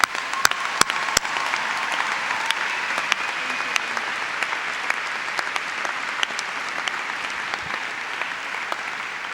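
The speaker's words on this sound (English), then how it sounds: "Please join me in welcoming Natalia with a warm round of applause." A commencement ceremony audience giving warm applause, a steady roar of many clapping hands with sharp individual claps standing out nearby, continuous from start to finish.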